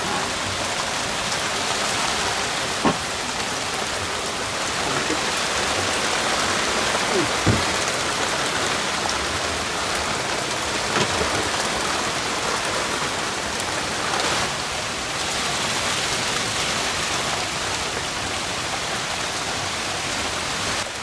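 Steady rain pouring over a rice field, a dense continuous hiss of drops on surfaces lasting throughout, with a few faint isolated knocks and no voices.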